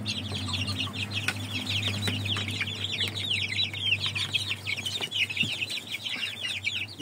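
A pair of indio chickens, a rooster and a hen, cluck and chatter steadily and close by, with a constant low farmyard hum running underneath.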